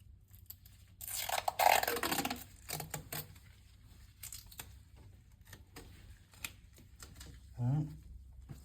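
Medical tape is torn and cut into pieces while preparing an IV, giving several short ripping, crinkling bursts against a quiet room, with a faint low hum underneath.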